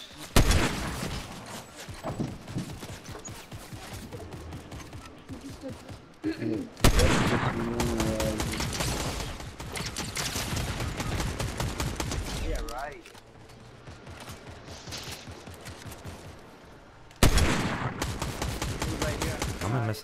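Dense bursts of rapid video game gunfire rattle almost nonstop, rising in loud waves with short lulls, while players talk excitedly over the shooting.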